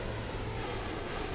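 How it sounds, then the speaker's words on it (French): An airplane arrives in the video game Saints Row: The Third, a loud, steady, broad engine roar that fills the whole moment without a break, with no voices over it. "l'avion arrive"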